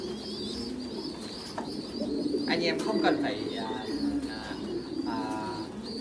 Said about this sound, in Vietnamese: Chim bồ câu Titan Thái siêu thịt bây giờ là một cái dòng hot nhất hiện nay.